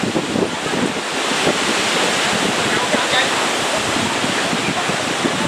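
Strong wind blows steadily outdoors near water, roaring across the microphone as a dense, loud rush with surf-like noise throughout and no clear voices.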